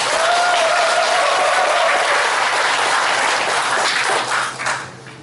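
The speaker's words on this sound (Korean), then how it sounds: "박수 한번 보내드립니다." Steady audience applause at a joint press conference for independent local election candidates, dense clapping from a crowd sustained for several seconds before tapering off near the end.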